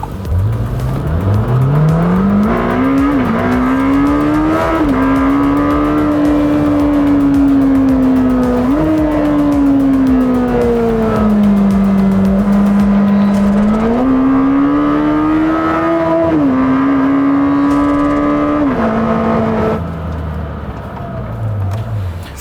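A Lamborghini Temerario sports car driven hard, its loud, close engine note climbing and holding through several gear changes in a sustained roaring acceleration before easing off near the end.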